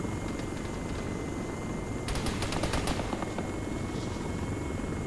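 Bursts of gunfire in the military shooter Arma 3, a cluster of rapid sharp shots in the middle against a steady low rumble, at moderate distance with no talk.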